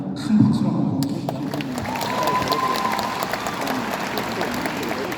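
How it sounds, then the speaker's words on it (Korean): Applause from an audience at a town-hall public dialogue with a provincial governor in Goheung, a dense, steady clatter of many clapping hands with some crowd noise, sustained loudly throughout. "큰 박수로 한번 보내주십시오"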